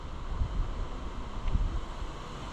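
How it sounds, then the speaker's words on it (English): Gusty wind buffets an outdoor farm setting near a White 5100 planter, a steady low rumble of wind noise with two stronger gusts swelling briefly, fairly loud and with no one talking. "I like how it decides to be windy for no reason every single day."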